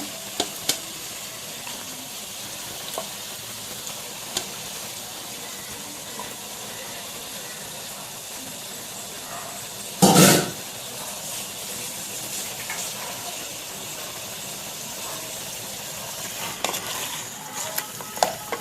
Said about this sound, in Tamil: வதக்கிட்டு இந்த மட்டனை போட்டுடுங்க தண்ணி இல்லாமல்